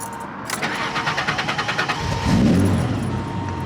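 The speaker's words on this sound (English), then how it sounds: "there's nothing quite like the adrenaline rush of hoping that your car actually turns on." A car engine starts up on the first try at a Supra car show in Las Vegas, with a short cranking rhythm followed by a low rumble as it catches and settles into idle.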